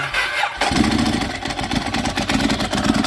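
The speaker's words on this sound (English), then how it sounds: "So you hear a lot of clutch." A motorcycle engine cranks and catches, then runs with a steady, loud idle and heavy clutch rattle throughout, close to the microphone with no talk.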